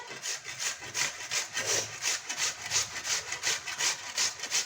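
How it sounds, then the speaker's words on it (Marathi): Peeled potatoes being grated by hand in a home kitchen, a rapid, even back-and-forth rasping of about three strokes per second, close and clear with no talking. "आता बटाटे आपण किसून घेऊया"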